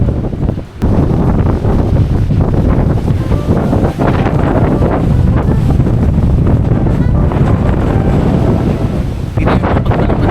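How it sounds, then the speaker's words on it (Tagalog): Loud, steady wind roaring and buffeting the microphone for the whole stretch, with a brief dip near the start and no voices. "sobrang lakas talaga ng hangin"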